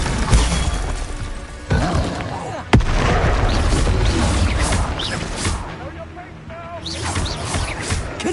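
Spell blasts in Hogwarts Legacy, including Confringo fire bolts, land as repeated booming explosions with sharp impacts amid game combat noise, one particularly loud hit, while a voice keeps calling out spell names over the action.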